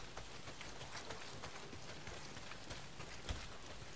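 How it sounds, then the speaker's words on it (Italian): Rain falls steadily in the open-world game Days Gone, a soft, even hiss of drops on surfaces with a few scattered louder taps, heard alone and fairly quiet. "No, se continua a piovere così."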